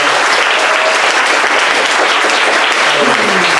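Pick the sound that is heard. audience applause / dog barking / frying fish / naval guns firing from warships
audience applause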